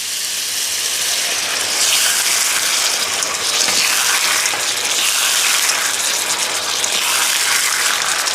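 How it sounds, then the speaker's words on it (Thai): Stir-fry stock poured into a pan of ginger-fried salmon, a steady gushing, hissing pour with sizzle that stays loud and continuous throughout. "แล้วก็ใส่น้ำซุปผัดค่ะหรือน้ำสต๊อกผัดลงไปค่ะ"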